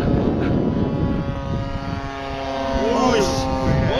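A model airplane flies overhead with a steady propeller drone that swells slightly as it passes, while people talk nearby.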